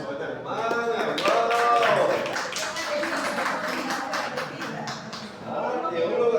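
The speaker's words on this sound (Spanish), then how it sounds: "Un aplauso a esta hermana." A small group at a religious course applauds a participant, with scattered claps mixed with cheering voices. A speaker's voice rises over the clapping at the start and again at the end.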